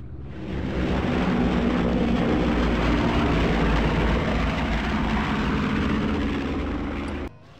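A twin-engine Handley Page Hampden bomber takes off from an airfield in Scotland on a November evening in 1942, a loud, steady engine roar that swells in quickly, holds for several seconds, then cuts off abruptly.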